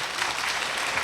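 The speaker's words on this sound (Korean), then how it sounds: "박수 한번." A short burst of audience applause at a public debate forum on the Changwon Starfield shopping mall, a dense, even wash of clapping from a hall full of people.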